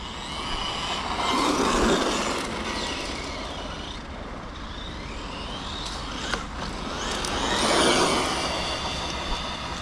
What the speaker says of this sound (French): alors on est un peu bruyant sur la transmise parce que j'ai pas tout à fait exactement le bon module de pignon.